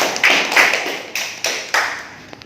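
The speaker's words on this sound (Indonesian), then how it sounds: "tepuk tangan untuk kawan kita Aulia Rahman" Scattered claps in a classroom micro-teaching lesson as students applaud a classmate: a handful of sharp, separate claps spaced across a couple of seconds, each trailing off quickly, with no talking.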